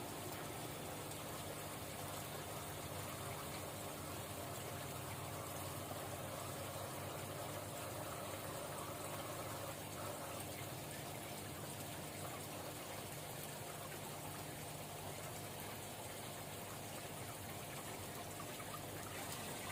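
Water beginning to flow through a fish-farming tank system, topped up from the main tank: a steady, continuous rushing and gushing with a low mechanical hum underneath, unbroken throughout and heard with no one talking.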